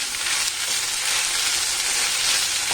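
Okra sizzles and fries in a pan while being stirred, a steady close hiss of frying with soft scraping from the stirring, no voices.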